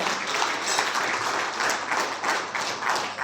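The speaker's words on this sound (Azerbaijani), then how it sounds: "Bu alqış sizə yaraşır." An audience at an event breaks into dense, continuous applause, many hands clapping at once with no pauses throughout.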